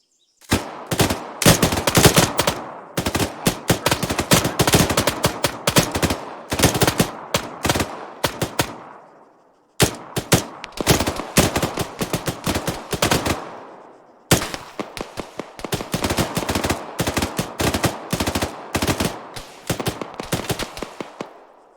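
Long sustained machine gun fire in a video game battle at a radio tower and base, dense rapid bursts that run for seconds and break off only briefly, loud and close with almost no voices.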